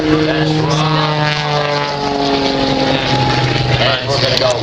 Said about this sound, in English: just using the power of the MXS airplane to hold the airplane up there in a hover